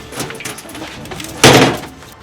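A single door sound at the abandoned Forest Haven asylum, a sharp scrape or slide followed by a fading rumble, near and fairly loud after a quiet rustling lead-in.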